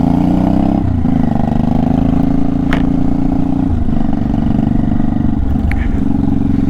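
A Honda Shadow 500 motorcycle engine idling close by, a steady loud throbbing rumble with a slight dip near the start and a couple of faint clicks over it.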